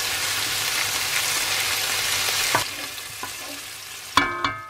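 Pancetta browns in a frying pan with a steady loud sizzle that eases after a few seconds, broken by a few faint knocks and clinks of utensils.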